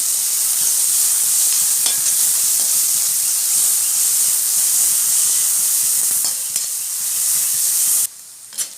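Small onions sautéing in a pan for sundaikai poriyal, a loud, continuous hissing sizzle with faint stirring ticks, cutting off abruptly near the end to a quieter room.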